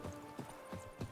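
Roach the horse in The Witcher 3, four soft hoof clip-clops at an even walking pace, faint and fairly close.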